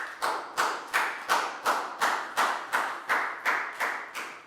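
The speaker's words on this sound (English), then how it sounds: "Big round of applause for Prel," A class of Year 4 pupils claps together for a classmate in a maths lesson, about eleven loud, evenly spaced unison claps in a steady rhythm, close by and with no talking.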